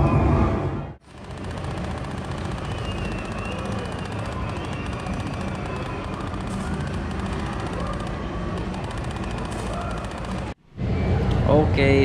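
Rapid, continuous gunfire from an arcade shooting game in a hotel in Colombo, Sri Lanka, a dense, steady blast of shots lasting about ten seconds with a brief gap before and after, loud and close.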